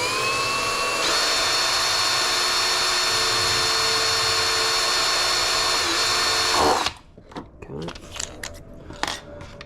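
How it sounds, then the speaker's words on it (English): A 4mm drill bit bores into the 3D printed hull of an RC boat, a steady high whine running close and loud for several seconds before stopping abruptly, followed by light handling clatter. "This is a 4mm drill"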